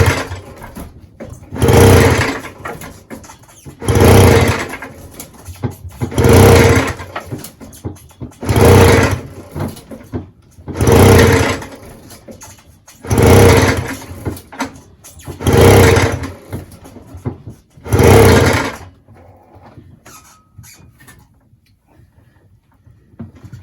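A 1977 Puch Maxi S moped engine is kicked over eight times in a steady rhythm, each loud, close mechanical churn lasting about a second with short pauses between, then everything falls quiet.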